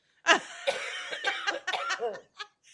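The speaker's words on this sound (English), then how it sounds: "As she hacks and coughs." A woman coughs and hacks in a short series of raspy bursts, some breaking into breathy laughter, close and fairly quiet.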